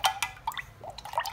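Watercolor paintbrush being swished and loaded in a water jar: a few small drips and light splashes in quick succession, close and soft.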